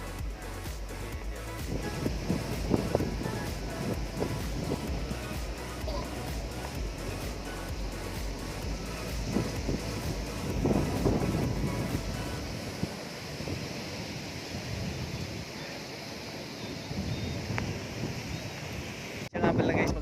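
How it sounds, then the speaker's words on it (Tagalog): Steady wind rushes and buffets the microphone outdoors among the windmills at Pililla for the whole stretch, with faint talk and rumbling underneath. "Sarap ng hangin dito."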